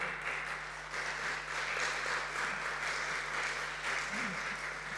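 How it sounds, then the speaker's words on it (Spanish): A congregation in a church temple applauds during a sermon, a continuous, moderately distant wash of clapping with slight swells, over a low steady hum. "Qué lindos aplausos"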